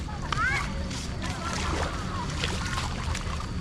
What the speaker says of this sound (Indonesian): Ada ombak kecil.